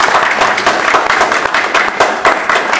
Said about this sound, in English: please welcome him with a warm round of applause